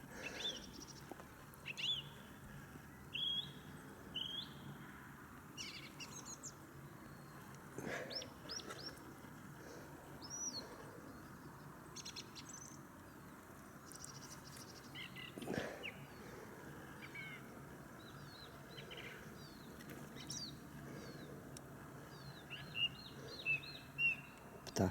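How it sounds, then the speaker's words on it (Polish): Birds singing outdoors in a quiet wooded setting, faint scattered chirps and calls spread across a long calm stretch with soft background rustle and occasional low thumps. "ptaszki jak śpiewają."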